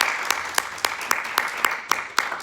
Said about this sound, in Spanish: Un aplauso al Señor, hermanos.